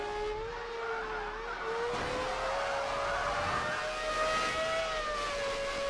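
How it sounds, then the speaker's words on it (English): A car drifting in the PS2 racing game Burnout 3: Takedown, with a steady engine tone that slowly bends in pitch over a tyre-squeal hiss, loud and continuous throughout, with no talking. "That was a beautiful drift."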